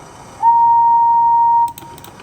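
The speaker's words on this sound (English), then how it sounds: "she blew her whistle as loud as she could" A cartoon steam engine sounds her whistle, one loud, clear, steady tone held for just over a second, followed by faint clattering with no voices.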